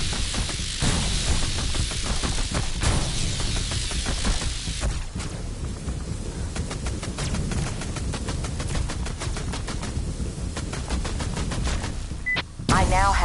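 Shooting in the VR Invaders game, with rapid, loud sci-fi weapon fire in dense repeated bursts that continue almost without pause, game voices and effects woven in, and a brief dip near the end.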